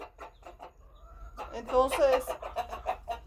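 Chickens, a rooster and a hen with chicks, clucking close by in short bursts, with a louder squawking flurry midway as the rooster pecks the hen, while a person says a word over them.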